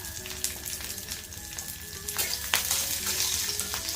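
Grated coconut roasts in a hot pan with a chopped green chili, a piece of ginger and garlic cloves, giving a steady close sizzle with occasional stirring scrapes and no talking.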